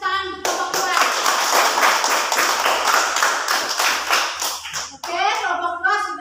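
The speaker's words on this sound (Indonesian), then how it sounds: "kita berikan tepuk tangan untuk kelompok 2" Children in a classroom clap together for a presenting group, a brisk, close burst of many hands lasting several seconds, with a teacher's voice heard just before and right after.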